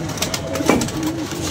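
A pigeon coos close by in a domestic setting, one soft throaty call rising and falling over steady background noise.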